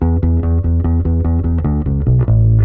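An electric bass plucked with the fingers plays a smooth, rhythmic run of repeated low notes, close and loud, ending on a held note.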